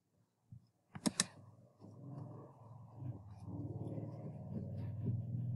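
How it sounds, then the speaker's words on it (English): A computer mouse gives a few sharp, close clicks in a quick cluster, followed by low steady background hum and faint rustling. "I'm just clicking on our unit."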